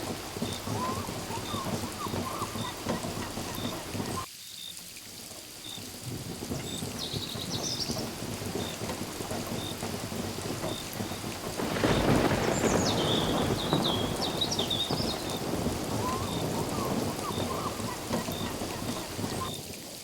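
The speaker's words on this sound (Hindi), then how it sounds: "सिर्फ बारिश लगातार एक सी, अंतहीन।" Steady heavy rain pours in an unbroken, even wash, falling hard on surfaces with no pauses, and it swells a little louder partway through before holding steady again.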